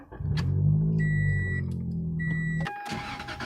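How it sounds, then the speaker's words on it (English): A Scion car being moved in a driveway gives a steady idling engine hum with brief electronic warning beeps, then the engine cuts off abruptly, followed by a short clatter near the end. "So let me move the Scion over there."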